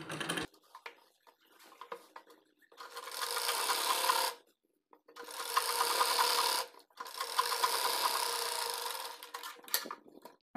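A sewing machine stitches dhoti salwar fabric in three steady whirring runs of a few seconds each, separated by short pauses with faint handling noises, close and moderately quiet.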